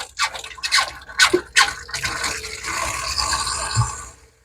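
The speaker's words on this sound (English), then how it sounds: "freshwater pump on right there. You can hear that run." A boat's freshwater plumbing runs as water sputters and splashes from a tap in uneven bursts, then settles into a steadier flowing hiss before cutting off, heard close with no talk.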